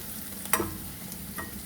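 Crushed garlic and spring onion fry in a pan for a ridge gourd stir-fry, giving a soft, steady sizzle broken by a couple of brief stirring knocks, with no talking.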